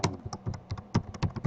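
Rapid, uneven keystrokes on a computer keyboard as a blog entry is typed, close and clear with short pauses between bursts, no voices.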